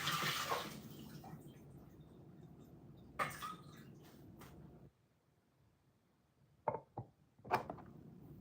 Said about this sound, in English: So the pumpkin, I'm just gonna wash them and then start dicing them.